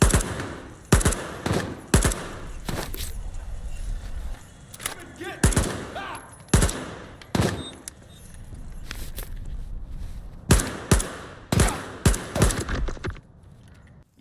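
Sharp rifle shots crack out repeatedly in the S.T.A.L.K.E.R. 2 Zone, a dozen or so close, loud reports spaced irregularly over a low background rumble, with faint movement noises between them.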